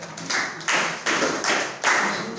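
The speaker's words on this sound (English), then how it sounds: "you can clap for her" An audience applauds a student in a classroom computing lesson on file management, several short bursts of close, fairly loud clapping with brief dips between them and no talking.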